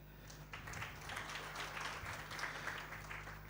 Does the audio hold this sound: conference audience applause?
yes